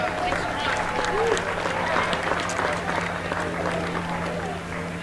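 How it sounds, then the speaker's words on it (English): Crowd applause at a high school baseball game between the River Falls Fighting Fish and the Groupers, honoring the Sunshine Fund; steady clapping and cheering from the stands with a low hum and talk mixed in. "Let's give a huge Fighting Fish round of applause for the Sunshine Fund"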